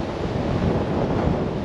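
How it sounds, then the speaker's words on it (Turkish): Rough Atlantic surf and strong wind on a beach at Mar del Plata, Argentina, a dense, steady roar of breaking waves and wind rumble on the microphone. "Bayağı dalgalı deniz."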